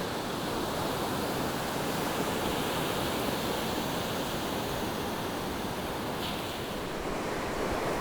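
Steady roar of sea waves washing onto a beach in Trujillo, Peru, continuous and fairly close, with some wind noise and no voices.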